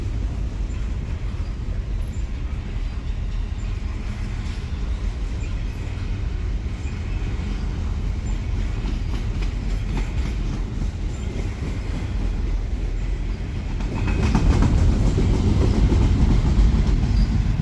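Norfolk Southern freight train NS31T rolls past with a steady low rumble of railcars and clattering wheels, growing louder and heavier near the end as the cars come closer.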